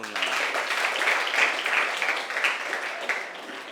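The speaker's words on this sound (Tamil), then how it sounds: "எல்லாரும் கைத்தட்டல்" A room of students and teachers at a World Literacy Day event claps for a student who recited Thirukkural verses, producing a lively burst of applause that continues throughout.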